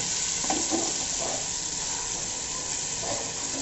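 Marinated mutton sizzles in a pan while mutton khichda is being cooked, giving a steady close frying hiss with a few soft stirring scrapes and no talking.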